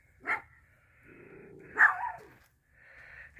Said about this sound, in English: Good little dogs.